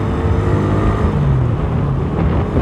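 A Suzuki Raider 150 motorcycle engine idles with a noisy top end, a loud, close, steady mechanical drone that holds without pause.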